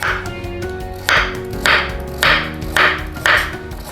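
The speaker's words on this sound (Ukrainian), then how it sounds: "Моркву буду нарізати такими кругляшками, досить великими шматочками" A knife chops carrots into large, thick rounds on a board, five evenly spaced firm cuts with a kitchen hum underneath.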